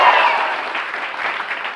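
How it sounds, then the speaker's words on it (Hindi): Studio audience on a TV morning show applauding loudly and steadily, a dense wash of clapping from many hands that carries on without pause and without talk. "कितना अच्छा क्राउड है, जरा जोर से तालियां बजाइएगा।"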